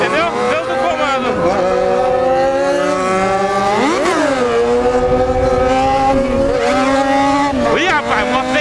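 A Honda CB300 motorcycle revving and accelerating hard, its loud engine tone climbing in pitch through several surges and gear changes, close and continuous with a constant rush of wind.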